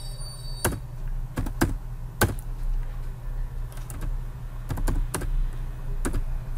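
Keys on a computer keyboard are tapped in short scattered clusters while entering quantities into Tally accounting software, sharp close clicks over a steady low hum with no talking.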